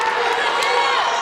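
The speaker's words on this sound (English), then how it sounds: "Oh, baby, listen to that crowd." Arena crowd at a college women's basketball game between Milligan University and the University of Pikeville roars loudly and continuously after a defensive stop, a dense sustained wall of cheering.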